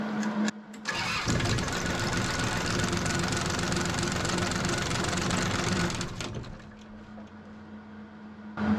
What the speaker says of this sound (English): I want to see what the vibration situation looks like up there if I start this engine